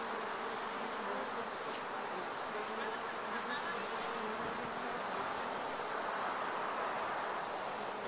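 A swarm of bees buzzes steadily during a bee removal in Los Angeles, a dense, continuous drone at close range with no gaps.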